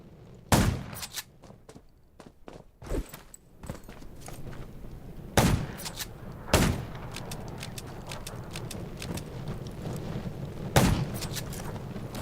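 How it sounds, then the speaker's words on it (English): Scattered gunshots ring out in the open-world zombie survival game Undawn, several sharp loud cracks spaced irregularly over a low ambient background with faint shuffling between them. "Gunshots will attract."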